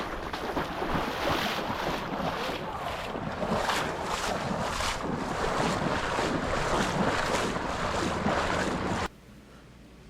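Someone runs through hurricane floodwater during a run-and-gun match, producing loud, continuous splashing and churning water with wind buffeting the microphone for about nine seconds before it cuts to quiet.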